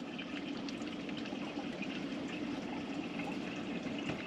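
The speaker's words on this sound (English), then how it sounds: "watch the bladder swell as it's taking on water" Water runs steadily into a hydration bladder through its fill tube, a continuous soft rushing hiss with no breaks or talking for the full few seconds.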